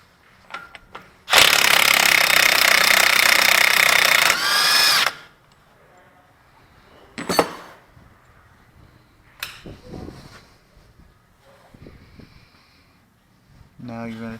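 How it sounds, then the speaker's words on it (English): An impact wrench or power tool spins off the 32mm axle center nut on a Ford Explorer 4x4 front hub, one loud sustained burst of about four seconds, followed by quieter clanks and a later short whir. "now you're going to take your center nut off on your axle."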